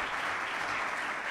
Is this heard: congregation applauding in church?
yes